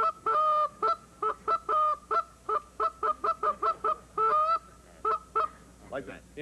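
A goose call is blown at a sportsman's show, imitating goose honks: a rapid run of loud, close two-tone honks in quick bursts, with brief pauses and a few softer calls at the end.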